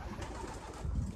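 Pigeons coo softly near a loft, a faint, low murmuring coo over quiet outdoor background noise.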